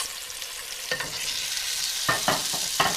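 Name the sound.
chicken sizzling in bacon drippings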